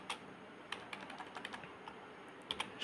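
A shop name being typed on a computer keyboard, scattered soft key clicks in quick bursts with short pauses, close and quiet, no voices.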